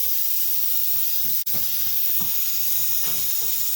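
A pressure cooker of snails vents a continuous, loud, broadband steam hiss that runs steadily throughout, broken only by a brief dip partway through.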